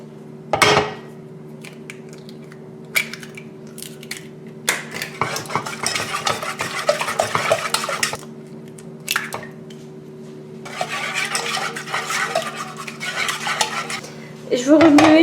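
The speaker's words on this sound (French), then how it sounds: "Et je veux remuer jusqu'à ce que le mélange s'épaississe" A spoon or whisk stirs a lemon cream mixture of eggs in a pot for a lemon meringue tart, producing bursts of wet scraping and clinking against the pan between quieter pauses, over a steady low hum, with no speech.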